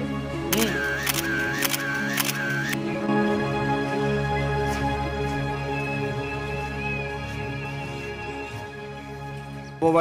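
A camera shoots a group selfie, a quick burst of about four rapid shutter clicks near the start, followed by a steady background hum with no talk.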